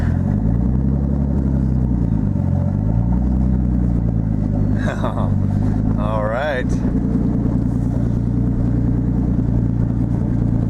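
A low rumbling, warmed-up Datsun 280ZX engine, freshly fitted with a turbo, idles steadily, its pitch rising and falling as it revs a few times, with a brief spoken word over it.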